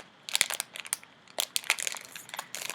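Plastic packaging torn open with teeth in a hotel room, a run of close, sharp crinkling and ripping bursts with brief pauses between them, no talking.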